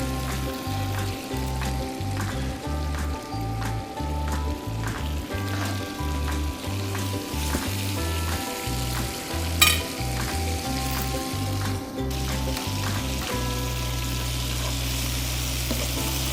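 Bonito fish rolls with capers and olives frying in a pan, a steady close sizzle with crackling pops throughout, over a pulsing low hum and occasional clinks.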